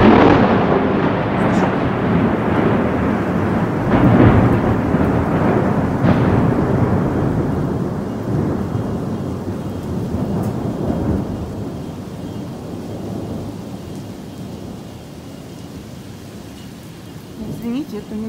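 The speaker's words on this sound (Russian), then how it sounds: "это очень интенсивный гром" Intense thunderstorm over Dallas, with heavy rumbling thunder rolling over steady rain, loud at first and gradually fading to a softer downpour, with a voice talking over it.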